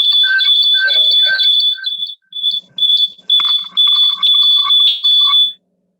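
A mobile phone alarm sounds loud and close, a shrill high-pitched electronic beeping pattern in repeated bursts with short gaps, ending abruptly in silence.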